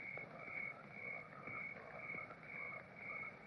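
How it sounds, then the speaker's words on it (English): A bullfrog croaks in repeated rhythmic calls by a river, fairly faint, over a steady high trill of background night chorus, with no talking. "Bullfrog."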